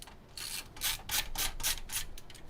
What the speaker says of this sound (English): let's put the rest of the screws in for this radiator